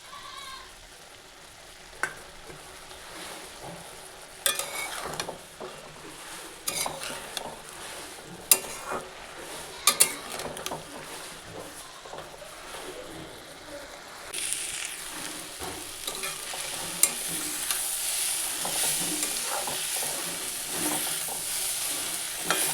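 A paste of poppy seeds and white sesame is stirred into softened drumstick flowers in a frying pan, with a low sizzle, repeated scraping spatula strokes and a sharper hiss building toward the end.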